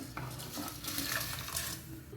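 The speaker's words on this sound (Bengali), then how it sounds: "এবার আমি চালটা ঢেলে দিলাম এর মধ্যেখানে" Rice poured into a pot of hot water for a Lucknowi-style biryani, a steady close rushing patter of grains and water lasting a couple of seconds, with a faint clink near the end.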